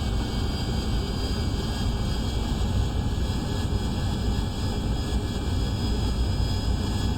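An AV-8B Harrier jet engine in the flight simulator DCS World roars continuously with a loud, steady whine and deep rumble, unchanging throughout and heard alone.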